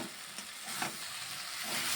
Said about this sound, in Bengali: এখন ভালোভাবে আর একটু কষিয়ে নিচ্ছি